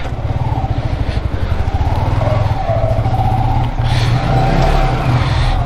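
A motorcycle is ridden indoors, its engine running steadily and loudly close by for the whole stretch with a low rumbling throb and slight rises in revs.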